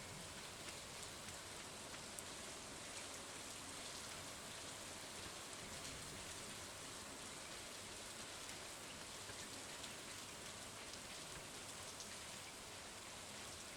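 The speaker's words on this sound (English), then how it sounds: "Glad to see the ghost cows are taking shelter from the rain." Steady rain in the video game Bogwood Valley pours down evenly, a dense hiss of drops on surfaces with no pauses throughout.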